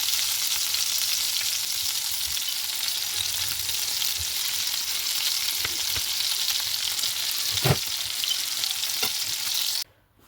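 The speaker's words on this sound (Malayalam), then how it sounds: "ചിക്കൻ ഫ്രൈ ചെയ്യുമ്പോൾ ലോ ഫ്ലെയിമിൽ വയ്ക്കുക." Chicken pieces for garlic honey chicken fry steadily in a pan over low flame with a dense, continuous sizzle, broken by a few soft clacks as pieces are turned, before the sound cuts off abruptly near the end.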